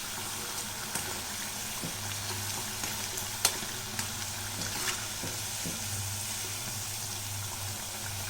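Maida bondas fry in hot oil with a steady, soft sizzle and bubbling, broken by a few light clinks of a utensil stirring and turning them, and no talk.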